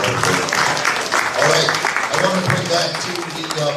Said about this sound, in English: Please, another round of applause for Ms. Barbara.